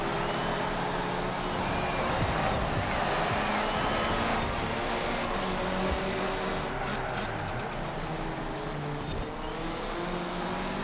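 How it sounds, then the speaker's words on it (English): A Toyota Celica in the racing game Forza roars at speed, its turbo whistle spooling up and down over a continuous engine drone. "The turbo, the turbo spooling up and spooling down sounds very nice"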